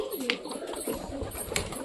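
Pigeons coo softly in a loft, several overlapping throaty calls close by, with faint rustling between them.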